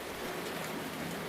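Rain falling on a Paris balcony at night, a soft, steady hiss of dense drops with no breaks, fairly quiet and even, with no voices or other sounds on top.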